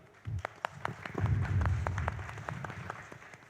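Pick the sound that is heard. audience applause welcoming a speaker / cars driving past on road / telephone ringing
audience applause welcoming a speaker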